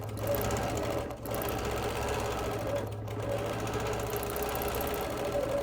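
A sewing machine quilts a Quilt of Valor in a steady, continuous mechanical hum and patter that runs close and even throughout, with only brief dips, and no one talking.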